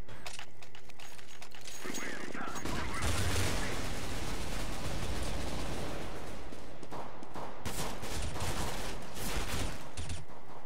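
Gunfire in CS:GO as a dense, loud fusillade of rapid shots and mechanical weapon clatter, rising after the first couple of seconds and staying heavy, with a brief lull near the end.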